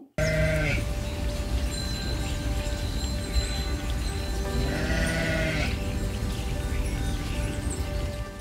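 Real sheep bleating in a flock, several drawn-out wavering bleats rising over a steady background, fairly close.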